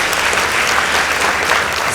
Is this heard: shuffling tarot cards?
no